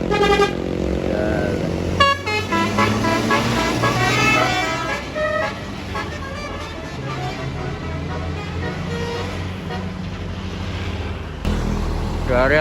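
Buses passing an Indonesian toll gate blast musical telolet horns, loud tonal melodies that rise and shift in repeated honks over steady engine rumble for most of the stretch, with a brief break before one more burst near the end.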